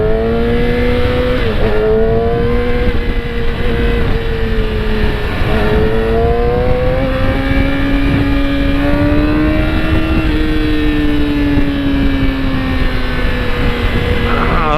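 Traffic from a motorcycle on a busy road, with a steady engine drone and tonal whine under loud, constant wind rush, and cars passing close by throughout.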